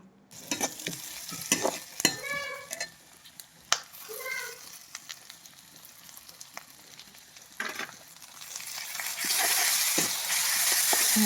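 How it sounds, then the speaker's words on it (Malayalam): Beef is tipped into frying onions and stirred in a pan for a Kerala beef roast, with close spoon clatter and scraping. The sizzle grows to a loud, steady hiss near the end, and a voice speaks briefly in the middle. "ബീഫിനെല്ലാം കൂടി ഇതിലേക്ക് തട്ടി കൊടുത്ത് ഇളക്കിയെടുക്കാമെന്ന് വിചാരിച്ചു കേട്ടോ"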